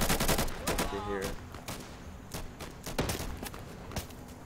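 Gunfire in the game Insurgency on a sniping map: a burst of loud, sharp shots at the start, then scattered single cracks and distant reports, with a voice talking briefly in between.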